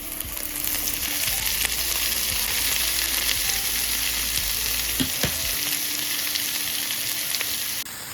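Vegetables, including beans, sizzle and fry in a hot pan over high flame, a steady loud crackling hiss that runs continuously with occasional stirring clatter and no talking.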